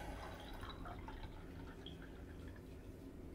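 Brewed Japanese Sencha green tea is poured into a cup, a short, faint liquid trickle with small drips over quiet background hiss.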